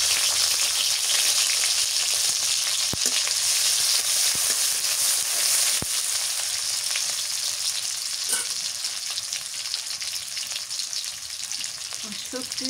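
Onions hit hot oil in a pan along with teasel gourd and potatoes, giving a loud, dense, continuous sizzle that settles a little over time, with faint clinks of stirring.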